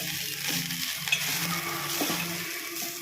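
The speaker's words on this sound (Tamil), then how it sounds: "இப்போ ரைஸ் போட்டு இப்போ நம்ம நல்லா கிளறி விட்டுடணும்" Rice stirred in a hot cooking pan, a steady close sizzle with a spoon scraping and turning the grains throughout, no talking.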